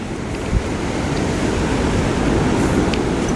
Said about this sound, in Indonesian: Ombak ganas,